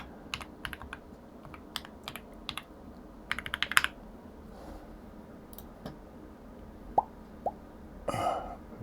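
Computer keyboard keys tapped to enter a password, quick bursts of close clicking with gaps, then a few isolated keystrokes and a brief rustle near the end.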